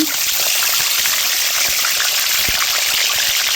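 Eggplants frying in oil in a wok, with tomatoes and an onion, giving a loud, dense, steady hiss and crackle throughout with no talk.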